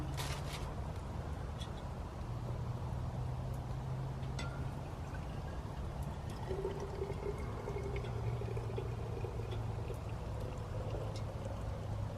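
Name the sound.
pouring hot water from a flask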